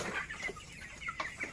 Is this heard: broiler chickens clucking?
yes